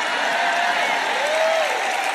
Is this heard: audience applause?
yes